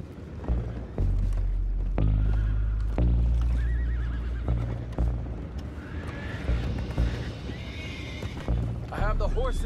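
Horses whinny and neigh repeatedly in Red Dead Redemption 2, with hoof clatter and commotion, while voices talk over the noise.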